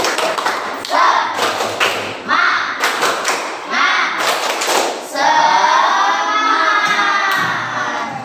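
A class claps in a rhythmic spirit-clap pattern of quick grouped beats, with children shouting and cheering between the claps, ending in a longer burst of collective voices.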